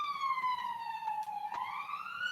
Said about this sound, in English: That was an ambulance as well.